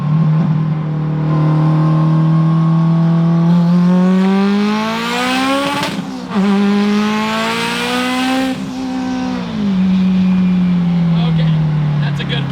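A heavily modified 1100 hp Subaru Forester engine revs and accelerates hard, its loud rising pitch climbing, dipping between gears and pulling again over about twelve seconds, close and dominant.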